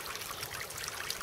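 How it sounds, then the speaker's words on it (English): Water from a pumped garden fountain falling and trickling, a soft steady splashing and dribbling close by, faint and unbroken. "Just like this fountain, the water gets pumped to the top and it falls down naturally."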